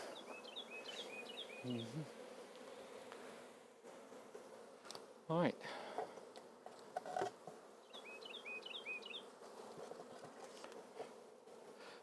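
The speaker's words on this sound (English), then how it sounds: "Put it at an angle so don't crush any bees." Steady buzzing from many bees around a hive fills the clip, with brief rustles and knocks partway through and a short spoken phrase near the start.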